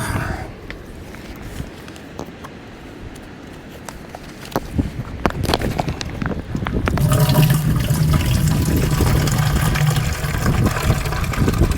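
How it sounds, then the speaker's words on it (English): Water gushes and splashes into a container being filled for hand laundry. It starts quietly among scattered knocks and handling noises, then becomes a loud, steady rushing pour. "We'll get some water in here."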